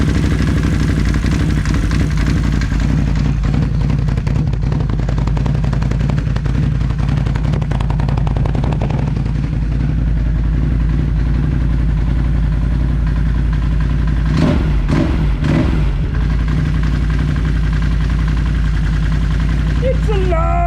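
A Can-Am Renegade ATV, fresh from a transmission swap, starts up and settles into a loud, steady close-range idle with a rapid mechanical chatter throughout.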